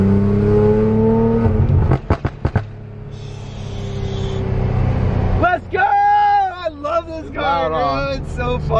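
Infiniti Q60 with a flame tune and no exhaust, engine revving and turbo spooling, rising whining pitch sweeps and sharp pops inside a parking garage, with people talking over it.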